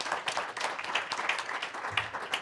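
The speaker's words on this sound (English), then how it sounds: "a tremendous, tremendous round of applause for Eugene" Audience applause at a welcome-remarks event, a short burst of dense, even clapping from a crowd, fairly close and steady throughout.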